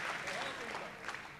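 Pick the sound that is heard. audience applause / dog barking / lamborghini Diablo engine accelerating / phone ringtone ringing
audience applause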